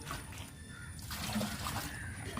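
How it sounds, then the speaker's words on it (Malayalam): Cow urine, eight cups of it, is poured for a homemade fertilizer, making a steady, soft liquid trickle and splashing heard fairly close and continuous, with no one speaking over it. "എട്ട് കപ്പ് ഒഴിക്കണം കേട്ടോ പശുവിടെ മൂത്രം"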